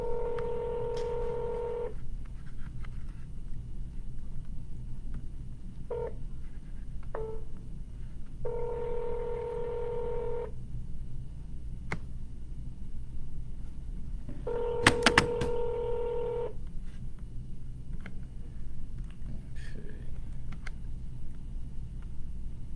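Telephone keypad dialing tones heard while cold calling: several short bursts of paired beeps, some single and some in quick runs, separated by pauses over a steady low background hum.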